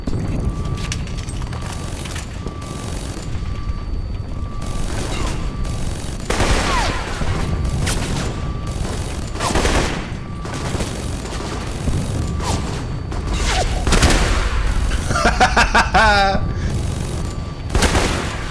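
Gunfire rings out in a battle in the video game Alpha Protocol: loud, dense volleys of shots and booming impacts go on without a break, with a burst of rapid fire near the end.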